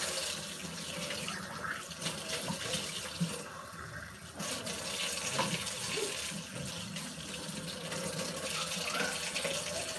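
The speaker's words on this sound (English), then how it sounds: "I'm using really kind of hot water" Hot water runs steadily from a kitchen tap into a sink, a continuous close splashing hiss with slight changes in tone as dishes are rinsed under the stream.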